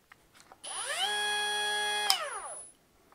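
A Bosch GWG 12V-50 S cordless angle grinder spins up to a high, steady whine, holds for about a second and a half, then winds down after a brief click, loud and close.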